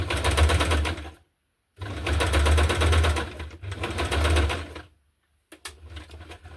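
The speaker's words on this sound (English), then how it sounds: "So I try to be a bit careful and mindful while sewing." Sewing machine stitching through a hardcover junk journal, running in three steady whirring bursts of a second or so each with short silent pauses, then a brief final start.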